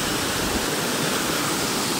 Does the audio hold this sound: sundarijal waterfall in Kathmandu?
yes